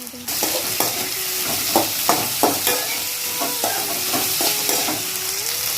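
Brinjal and onion sautéing in oil in a pan for chutney: a continuous loud sizzle broken by repeated rhythmic scrapes and knocks of a spatula stirring, with a faint tonal whine in the background.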